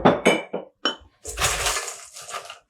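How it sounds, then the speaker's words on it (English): Ice cubes clink and rattle into a glass for a daiquiri: several sharp separate clinks, then a longer tumbling clatter of cubes settling, close and clear. "Gonna add some ice."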